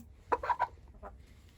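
A few short clucks from chickens, close by, in quick irregular bursts against a low background hum.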